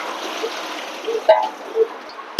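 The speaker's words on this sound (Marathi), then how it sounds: "आता हे शेवटच्या पाण्यातून परत धुवून काढते" Kidney beans being rinsed in water for a Konkan-style rajma dish, with a steady wet trickle and sloshing, plus a few brief splashes and clinks near the end.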